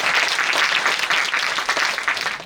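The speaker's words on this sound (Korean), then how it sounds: "김효정 전문가님께 큰 박수 보내드리겠습니다" Close, loud applause from a seminar audience thanking an expert after a video conference, a dense wash of many hands clapping at once that tapers off slightly at the end.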